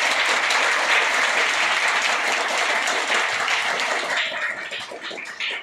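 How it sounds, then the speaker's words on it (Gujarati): Sustained applause from an audience at a village school event in Madhada, Amreli district, a dense steady wash of many hands clapping that holds loud throughout and eases slightly toward the end. "તેના માટે આપણે સૌપ્રથમ બધાયને તાળીઓથી વધાવીશું"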